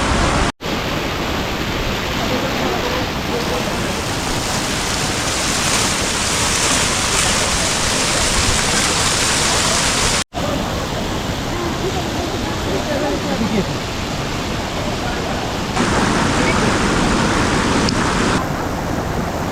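Water rushing loudly and without a break at a waterfall in the Silk Route hills near Sillery Gaon, a dense, full roar that fills the whole scene close up, with no gaps apart from two brief dropouts.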